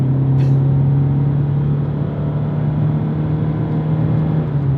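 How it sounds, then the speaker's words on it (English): A 2026 Toyota Corolla Hybrid AWD with two electric motors accelerates in sport mode, heard from inside as a steady, loud motor drone with a constant low hum and no voices. "That initial get up and go with the 2 electric motors is absolutely brilliant."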